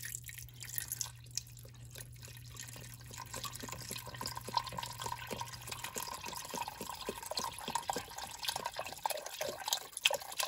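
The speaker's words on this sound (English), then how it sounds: "Just want to add in a little more water." Water trickling and dripping into a pot of pot roast meat, soft irregular splashes close up, with a low steady hum underneath for the first half.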